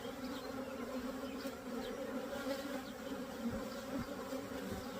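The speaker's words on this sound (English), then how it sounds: "This is an amazingly strong hive," Honey bees at a strong hive make a steady, dense buzzing drone close by, with individual bees zipping past now and then.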